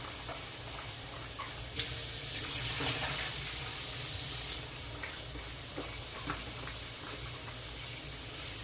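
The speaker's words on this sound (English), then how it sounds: "I'm just rinsing it off properly" Tap water runs steadily over goat head meat being rinsed in a sink, a close, continuous splashing hiss with a few brief louder spurts and no talking.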